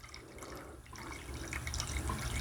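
Sweet-tasting well water pours steadily into a 6-quart fermentation bucket while mead is being made, a continuous splashing fill that grows slightly louder toward the end, with no talking.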